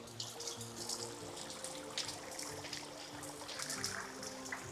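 Natural spring water runs steadily at a pure freshwater source in Goiás, Brazil, a continuous close splashing flow that holds evenly throughout with no speech.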